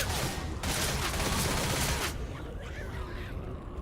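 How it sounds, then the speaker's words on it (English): Dense gunfire and bursts of shooting against zombies in a co-op video game, loud and sustained for about two seconds before thinning into a quieter rumble of game sound effects. "get shooting those zombies"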